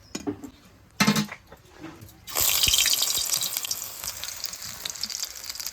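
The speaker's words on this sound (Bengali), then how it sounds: "আমি এই কটা আবার তেলে ছেড়ে দিই" Pumpkin-flower fritters are dropped back into hot oil: after a quiet start and a brief clatter, a bright, loud hissing sizzle bursts in and keeps bubbling steadily, slowly easing off.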